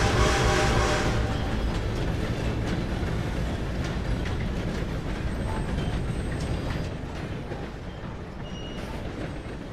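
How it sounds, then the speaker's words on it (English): Steam train in Red Dead Redemption 2 rumbles past close by, loud and continuous, its wheels clattering in a dense rhythmic roar that eases slightly toward the end. "Well, I'll beat the train, don't you worry."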